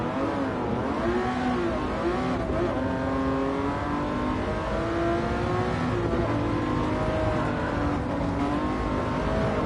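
A McLaren F1 race car in a racing video game revs continuously, its engine note rising and falling through gear changes, loud and sustained with no pauses.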